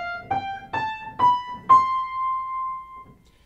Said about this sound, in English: So a piano, as you would expect, makes the sound of a piano.